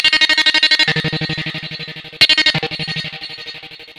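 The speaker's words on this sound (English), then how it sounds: "touch fader to a delay, so it sounds kind of like this." Electric guitar passes through a delay effect controlled by a touch fader, giving rapid repeating pulses that gradually fade. A sharp new strike midway restarts a fresh train of decaying echoes, heard alone and close.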